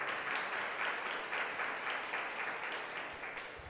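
Audience applause at a diabetes association recognition event in Puerto Rico, a steady wash of many hands clapping at moderate distance, sustained throughout with no voices over it.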